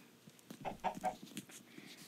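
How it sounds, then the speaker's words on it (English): Chickens in a video game cluck in a short burst of several soft, quick calls, fairly quiet with no talking. "I need to breed the chickens again. We need more chickens."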